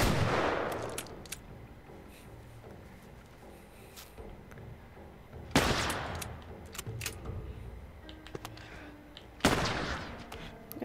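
Gunshots in The Last of Us video game: three sharp, loud reports spaced several seconds apart, each with a short echoing tail over a quiet game ambience, no talking.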